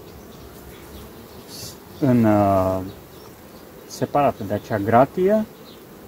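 Honey bees hum at an open hive while a queen is being introduced, a low, steady buzz running beneath someone speaking in short bursts close by.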